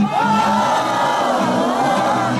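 A crowd of thousands at a rap concert in Yakutsk, at the Deti Azii 2016 festival, roars a loud sustained collective shout that holds steady for the whole moment.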